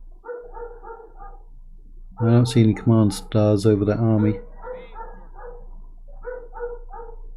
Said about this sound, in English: sorry for the dogs in the background barking